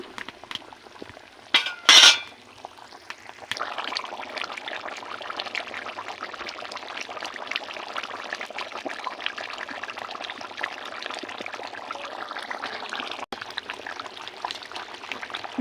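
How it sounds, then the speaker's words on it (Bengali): Fried potatoes are dropped into a boiling meat gravy with a brief clatter, followed by a long steady bubbling and pouring-like rush that continues to the end. "ঝোলটা ফুটে গিয়েছে, এখন দিয়ে দিব ভেজে রাখা আলুগুলো"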